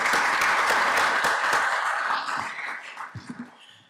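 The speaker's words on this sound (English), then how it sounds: "I just want a round of applause for you guys" Audience applause fills a luncheon hall, a dense burst of clapping that stays steady for about two seconds, then thins into scattered claps and fades out.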